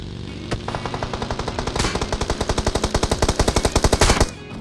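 Automatic rifle fire in the mobile battle royale game BGMI (PUBG Mobile) rattles off as a long, rapid, even burst of loud shots, preceded by a couple of single cracks.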